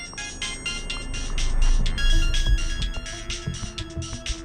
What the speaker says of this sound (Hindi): पापा फोन रिसीव करो।